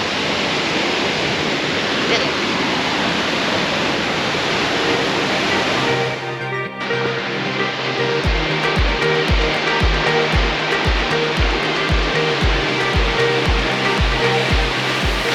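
A loud, constant roar of falling water at Salt Creek Falls in Oregon fills the first several seconds, then cuts abruptly to music with a steady thumping beat.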